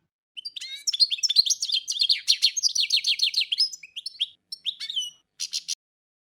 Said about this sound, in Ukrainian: А тепер прислухаємося до пташки.